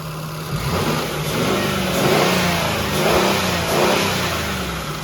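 A 2002 Nissan Quest GLE minivan's 3.3 liter engine revs up and down twice in a row, a steady mid-pitched roar swelling and easing back toward idle, close by.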